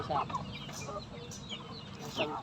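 Backyard hens, a gray one and a brown one among a small starter flock of three, give soft intermittent clucks and short calls at close range, with low farmyard background noise throughout.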